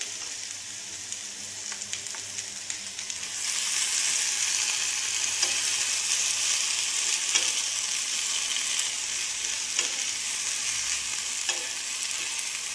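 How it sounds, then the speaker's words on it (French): Wood ear mushrooms sizzle and fry steadily in a saucepan, growing louder partway through, with occasional clinks of stirring and no talking. "Je vais les faire revenir un tout petit peu."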